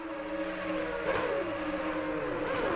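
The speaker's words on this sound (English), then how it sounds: "I love the sound of these Porsches" Porsche race car engine in a multiclass sim racing game, a sustained, droning engine tone that rises and shifts in pitch as it revs, with overlapping engines audible and no talking.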